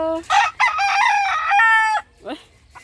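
Rooster crowing loudly and close with a long drawn-out call, followed by brief clucking from chickens in a backyard coop for brown egg layers; people talk faintly nearby.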